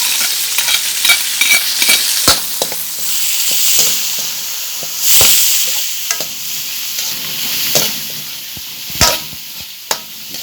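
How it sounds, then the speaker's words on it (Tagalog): Carrots fry in oil that sizzles steadily in a pan while a utensil repeatedly scrapes and stirs, with sharp clicks and taps against the metal. "prito-prito ng konti ng ating carrots para medyo hindi matigas mamaya"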